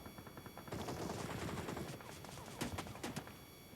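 Rapid bursts of gunfire in the battle royale game PUBG Mobile, several sharp shots cracking out close and loud over a dense, busy game soundscape with footstep-like clatter.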